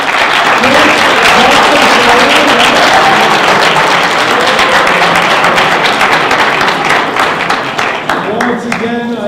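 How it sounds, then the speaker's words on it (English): Loud, close applause for the judges at a startup pitch competition, a thick wash of clapping that stays strong throughout and thins slightly near the end, with a few distinct claps standing out. "Can we just have a round of applause for our judges?"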